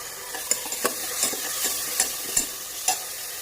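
Tomato paste frying and sizzling in hot oil for a simple breakfast dish, with a utensil stirring and scraping the pan in regular strokes, close up.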